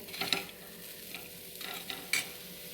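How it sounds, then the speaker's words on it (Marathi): Leftover boondi being stirred on a hot griddle until crisp, with intermittent scraping strokes and soft sizzling, close and clear with no talk. "फक्त अशी कडक होईपर्यंत आपण हलवत राहायचं"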